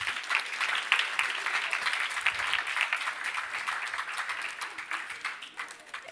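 Audience applause at an entrepreneurship challenge event, a sustained dense wash of clapping from a crowd that stays loud, then gradually thins toward the end.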